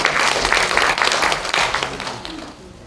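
Welcoming applause fills a conference hall at the National Assembly during a World Korean Women's Policy Forum, with many hands clapping loudly and densely before gradually tapering off.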